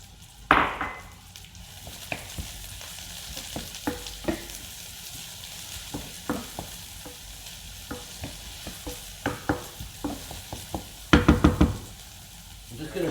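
Chopped onions frying and browning in a pan for Turkish baked beans: a constant sizzle broken by scattered knocks of a utensil stirring against the pan, with a quick cluster of taps near the end.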